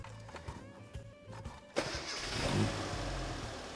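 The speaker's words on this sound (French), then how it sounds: "Donc on va démarrer cette Mini Austin pour faire le remplissage du filtre à huile." A Mini Austin engine cranks and fires at about 1.8 seconds, then settles into a loud, steady idle that swells slightly as it runs, after quieter clicks and shop noise.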